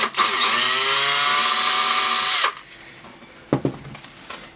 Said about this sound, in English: what I'm going to do is drill another hole